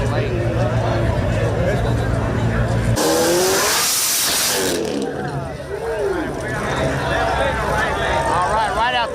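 Drag racing at a small tire event, with cars including a highlighter yellow ZL1 roaring loudly at close range, a sudden burst of harsh wideband engine and tire noise midway, and crowd chatter and talk throughout.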